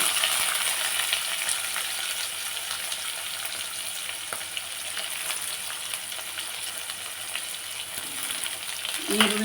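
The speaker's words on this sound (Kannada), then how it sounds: "ಸ್ವಲ್ಪ ಟೈಮ್ ಎಣ್ಣೆಲಿ ಫ್ರೈ ಆಗಬೇಕು." Chopped onions frying in oil in a pan for a restaurant-style upma, a continuous soft sizzle with occasional stirring clinks and a faint spoon scrape near the end.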